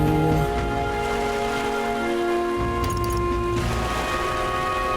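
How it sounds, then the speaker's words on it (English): Steady rain falls in the fantasy game Metaphor: ReFantazio, a constant wash over a sustained musical drone and ambient tones, with no talking. "Nice rainy day out."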